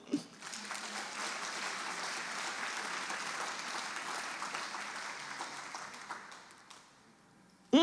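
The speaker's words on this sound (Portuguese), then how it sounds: "Aplauda, Senhor." Church congregation applauding during a sermon, a dense burst of clapping from many hands that starts right away, holds steady for about six seconds and then fades out, followed by a brief sound at the end.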